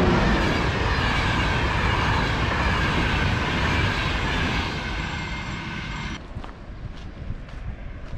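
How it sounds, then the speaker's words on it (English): A train pulling out of Faro station heading west towards Lagos in the Algarve, its dense, loud rumble and rolling noise filling most of the stretch before it thins and fades away near the end. "Here comes the train. The train is leaving Faro"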